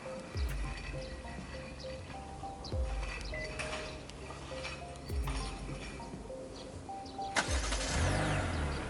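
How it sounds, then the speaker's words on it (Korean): A Hyundai Sonata, eighth generation, starting its engine by itself under remote smart parking assist, with a low rumbling idle and mechanical clicks, moderately close and with no talk over it. "이렇게 시동이 걸리고"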